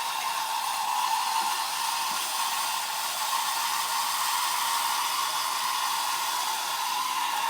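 The motorized tail of a 1989 Tokyo Marui R/C Godzilla figure runs on old batteries, giving a steady, close, whining motor hum with a constant hiss-like buzz throughout.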